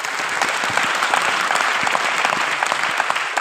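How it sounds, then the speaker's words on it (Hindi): A seated audience at a company anniversary event applauds a participant, a loud sustained wash of many hands clapping with distinct sharp claps throughout, with no talking. "तालियां होनी चाहिए इनके लिए।"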